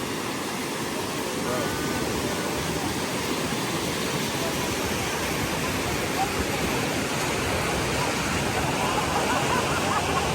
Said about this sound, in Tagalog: So inani kanindot Pinduan Waterfalls diri sa Don Victoriano.